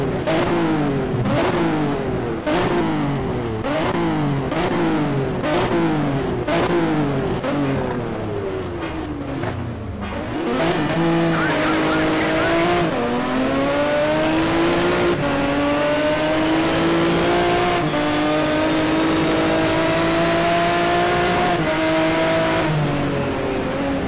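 A racing car engine in the video game Need for Speed Shift 2 revs hard through a quick series of rising upshifts, then settles into a sustained high-pitched roar that climbs steadily, loud and close.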